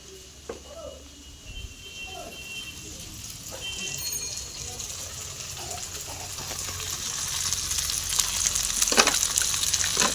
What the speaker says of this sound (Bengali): পুরো নাড়াচাড়া করে ভেজে নেব।